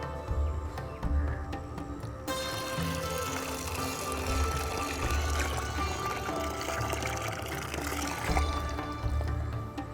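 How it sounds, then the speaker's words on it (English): Water poured into a big bowl of ice for a fish ice bath, a continuous splashing, gurgling pour that runs steadily and fairly loud throughout. "Add water to it."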